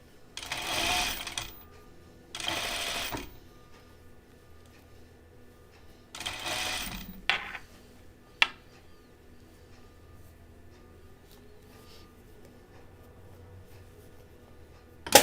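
A sewing machine stitches a seam on a striped 1940s-style dress in three short, close bursts, separated by quiet pauses and a few light clicks.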